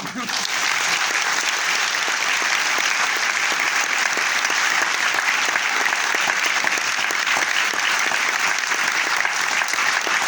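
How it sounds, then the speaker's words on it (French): Strong, continuous applause from the audience at the closing night of the Korean Film Festival in Paris, thick rapid clapping sustained evenly for about ten seconds. "Je vous demande de les applaudir très fort."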